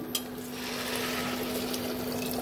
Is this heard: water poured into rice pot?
yes